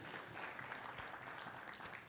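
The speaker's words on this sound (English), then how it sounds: "Another big round of applause for Wim and the team." A conference audience gives applause at an IPO event, a brief, fairly faint patter of many hands clapping, distant and steady.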